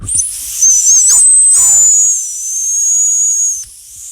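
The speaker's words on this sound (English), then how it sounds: "Let's use some dog whistling." A piercing, very high-pitched dog whistle is blown close by for several seconds, wavering slightly in pitch before cutting off abruptly.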